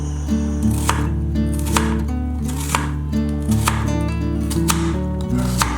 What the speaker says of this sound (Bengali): আমি এদিকে এবার পেঁয়াজটাকে কেটে নেব